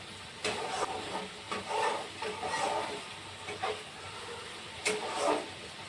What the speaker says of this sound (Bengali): মশলাটা ভাজতে একটু সময় লাগছে